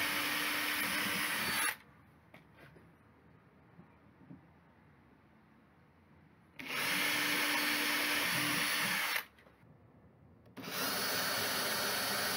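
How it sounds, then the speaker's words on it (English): A power drill bores holes through a board for a vocal booth's ventilation pipework housing, running in three loud, steady bursts of several seconds each with quiet gaps between. "then I drill the holes"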